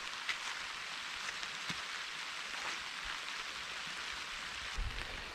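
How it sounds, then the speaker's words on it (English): Steady rain falling through a forest on a backpacking trail, a soft continuous patter of drops on leaves and ground with a few louder nearby drips, heard alone without talk. "the forest when it's raining is just amazing"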